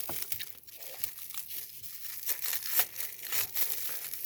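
A packaged mini toy egg is opened close up, with quiet crinkling and tearing of plastic wrapping in irregular bursts and sharper rips, no talking.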